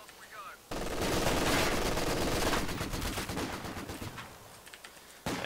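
A Vickers machine gun firing in Company of Heroes 2, a long loud rapid burst of rattling shots starting abruptly and tapering off, with a short renewed burst at the end.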